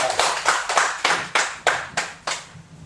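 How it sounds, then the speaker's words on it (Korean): A small audience at a Buddhist lecture claps in slow, evenly spaced beats, about nine sharp claps close by that each fade before the next, with no talking. "박수 한번 치세요"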